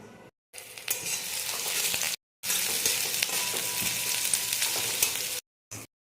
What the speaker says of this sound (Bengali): তেলটা গরম হয়ে গেছে, এবার পেঁয়াজগুলো ভেজে নেব।